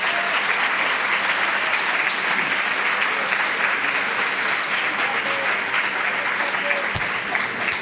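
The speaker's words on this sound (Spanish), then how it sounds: "Brindémosle un fuerte aplauso al licenciado Héctor Jaime Treviño por esta interesante conferencia" Audience applause after a lecturer's history talk on the French Intervention and Maximilian's empire at a preparatory school in Linares, steady dense clapping filling the hall throughout at even loudness.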